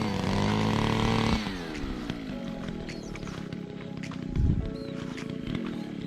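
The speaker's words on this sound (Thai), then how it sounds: "กำลังเจาะหลุม" An engine-powered auger drills planting holes for a field of Sang Mon bamboo seedlings in Phetchaburi. It gives a loud, steady motor drone that drops in pitch after the first second, then churns on with a brief heavier surge near the end.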